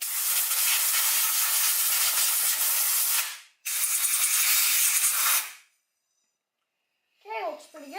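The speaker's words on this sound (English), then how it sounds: "So, got my air hose and the air gun." Compressed air blasts from an air gun onto a Kubota B7100 tractor brake part in two long, loud hissing bursts, followed by silence and a short voice at the end.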